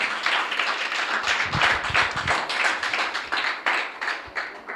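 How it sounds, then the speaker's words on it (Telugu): A church congregation claps steadily during a sermon in a dense, continuous patter, fairly close, with no voices over it. "చప్పట్లు కొట్టాలి ఒకసారి అందరూ."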